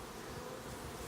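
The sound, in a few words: honey bees buzzing at hive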